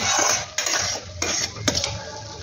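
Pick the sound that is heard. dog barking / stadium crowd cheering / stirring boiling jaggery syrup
stirring boiling jaggery syrup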